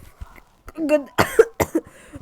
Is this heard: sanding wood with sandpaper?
no